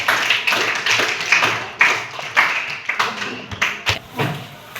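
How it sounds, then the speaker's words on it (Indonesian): A small audience claps together during an Islamic religious education lesson on tabligh and dakwah, producing a dense, steady patter of hand claps that swells in uneven bursts for about five seconds, fairly close and loud with no talking. "Kita berikan aplaus untuk itu semua."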